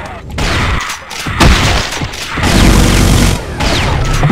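Minigun fire in a co-op session of Doom with a brutal mod, loud continuous roaring bursts with brief gaps and heavy booming impacts.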